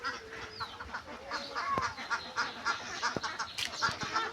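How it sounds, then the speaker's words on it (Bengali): Domestic village ducks just let out by a rain-filled rural pond, quacking in a loose, scattered chorus at moderate distance over steady wind and ambient noise, with a few sharper clicks mixed in. "এই মাত্র হাঁসগুলো ছাড়া হলো"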